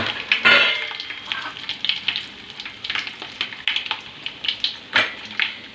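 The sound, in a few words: mustard seeds, dried turkey berries and dried chillies frying in oil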